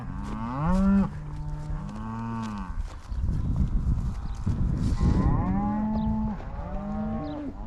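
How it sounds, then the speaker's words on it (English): A cow moos repeatedly nearby on a farm, long, loud bellowing calls rising and falling in pitch, with a few overlapping moos from the herd and some low rustling between them. "She's a good looking cow."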